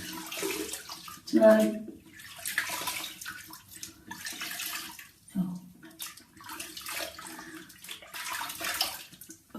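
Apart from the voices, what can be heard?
rinsing soap off face with tap water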